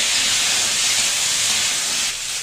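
Cauliflower frying in a pan, a loud continuous hissing sizzle close up, dipping slightly at the end.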